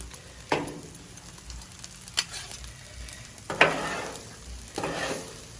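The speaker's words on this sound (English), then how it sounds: "On a good seasoned griddle, the eggs don't stick too bad." Eggs frying on a well-seasoned griddle for pork and chicken fried rice, a steady low sizzle broken by several sharp scraping stir strokes of a spatula at irregular intervals, close and moderately loud, with no talking.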